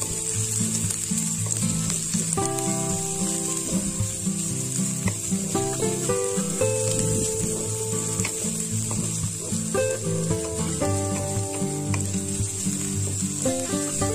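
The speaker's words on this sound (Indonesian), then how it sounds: "kemudian masukkan daun bawang yang sudah diiris-iris. Lalu aduk dan masak lagi sebentar ya." Sliced scallions and wilted onions stir-fried in a pan, a loud continuous close sizzle with scraping stirring strokes throughout and no talking.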